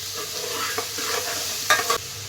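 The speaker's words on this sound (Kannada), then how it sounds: "ಚೆನ್ನಾಗಿ ಫ್ರೈ ಮಾಡಿಕೊಂಡು" Onion and tomato frying in a pan while being stirred, a close steady sizzle broken by scraping stir strokes and a sharper clatter near the end, with no voices.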